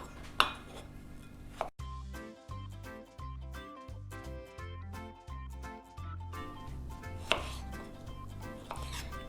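Peeled cucumbers sliced with a knife on a cutting board for a Georgian salad: steady, rhythmic chopping with a few louder knocks, all under gentle background music.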